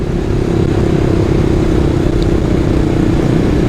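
Honda VTR 250 motorcycle engine running steadily, a constant loud droning rumble throughout with no clear revving changes, heard alone without talk.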